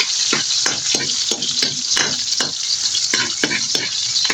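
Chili and onion sizzle and fry in a pan while being stirred, a loud steady hiss broken by a regular run of scraping strokes, close up.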